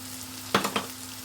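Garlic and spices are tossed into a hot pan and flare into a short, crackling sizzle. Two or three quick bursts rise out of a low background hum, then settle back.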